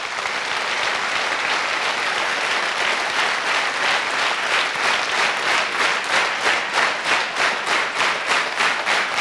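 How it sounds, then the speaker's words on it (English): An audience with eyes closed claps together, starting as scattered dense applause that gradually locks into a shared rhythm, the beats growing distinct and evenly pulsed toward the end, loud and without talk. "And now you can start clapping."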